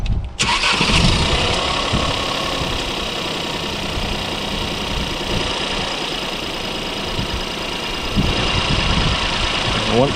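A car engine cranks and catches after a jump start, then settles into a steady loud idle, with a voice speaking briefly over the running motor.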